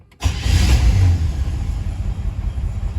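A 1957 Chevy wagon's engine firing up, a sudden loud crank-and-catch followed by a deep, steady idling rumble, close and alone.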